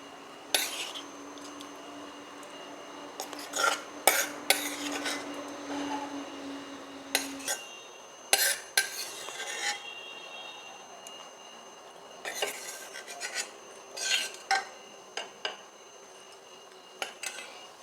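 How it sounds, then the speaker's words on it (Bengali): Pineapple chicken is transferred into a bowl, heard as a run of clanking spoon and pot strikes, metallic scrapes and clinks in irregular bursts with quiet gaps between, close by and without talk. "এবার আমি চিকেনটা একটা পাত্রে ঢেলে নেব"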